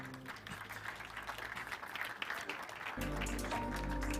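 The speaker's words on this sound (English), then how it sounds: "Round of applause for Tech-ish." Applause from an audience at a Safaricom 5G connectivity event, moderate clapping that grows fuller, with a low music bed joining partway through.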